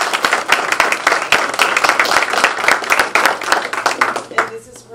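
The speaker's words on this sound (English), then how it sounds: "If you can all give her a round of applause." Audience applause at an annual organization meeting, a dense burst of many hands clapping fairly loudly and close for several seconds before tapering off, with some talk mixed in.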